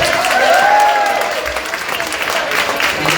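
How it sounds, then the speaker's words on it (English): A crowd claps loudly and steadily at an arts festival launch, the applause filling the room for a few seconds, with a brief whistle near the start. "a big round of applause"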